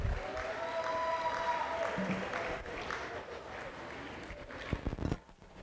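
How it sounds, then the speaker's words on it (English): Audience applauding award winners at a school sports banquet, a steady sustained round of clapping from a room full of people, with faint voices underneath and a few louder claps near the end before it fades. "Can we give them one big more round of applause"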